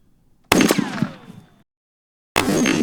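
A .50 BMG rifle fires at a giant steel kettlebell: one sharp, loud, close report with a ringing metallic decay, followed by a second blast of noise about two seconds later.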